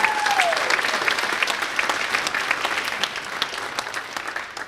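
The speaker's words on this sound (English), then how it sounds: "Let's have a round of applause for the women's soccer seniors" A crowd at a college athletic awards ceremony breaks into loud, sustained applause that gradually thins out, with a brief whistle-like tone at the start.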